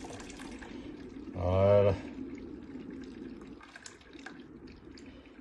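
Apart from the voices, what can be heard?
soup being poured carefully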